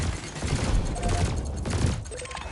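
Ship weapons fire in Elite Dangerous, a laser and cannon letting off a dense, continuous burst of rapid shots that fills the short stretch loudly and evenly with no pauses.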